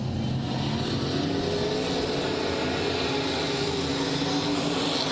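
Outlaw Street Stock race cars in heat race number 2 at HOT Speedway roar down the back straightaway, a loud, continuous blend of engines with no break and no one speaking.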